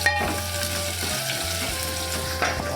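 Crushed garlic sizzling in hot oil in a pan, a loud continuous frying hiss close up, with a brief stir or scrape partway through and no talking.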